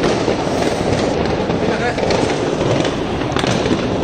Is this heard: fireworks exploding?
yes